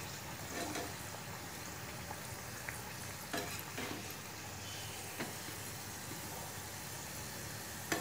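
Paneer corn kachori fry slowly in oil over a low flame, giving a faint, steady sizzle with a few soft clicks and bumps and no voices.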